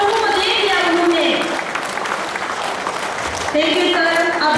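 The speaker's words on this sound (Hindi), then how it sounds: "आप लोग ताली बजा दीजिए" Audience clapping at a women's wing silver jubilee celebration in Itanagar, a dense sustained round of applause mixed with voices and talk over it, strongest at the start and end.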